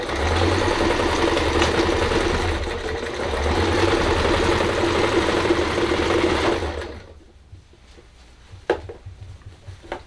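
A sewing machine runs a zigzag stitch to join Dollar Tree rugs, a steady loud mechanical whir for about seven seconds, a short dip partway through, then stopping abruptly and leaving a few faint clicks and handling sounds.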